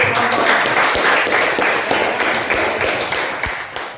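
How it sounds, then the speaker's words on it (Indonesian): Applause from a classroom audience during a teaching practice session after a group presentation, a dense steady clatter of many hands clapping that carries on for the whole stretch with a few sharper slaps standing out. "Sebelum kita beri aplaus dulu."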